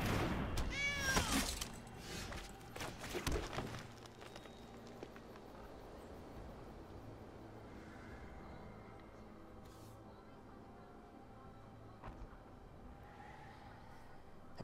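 A cat meows a few times close by at the start, loud and clear, then the room settles into a quiet, steady background hum with faint scattered taps.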